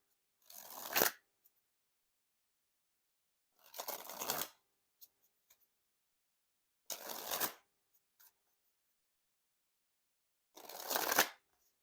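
Slippery plastic-coated Dale Earnhardt NASCAR playing cards being shuffled, four separate bursts of riffling with quiet pauses between them, close and crisp.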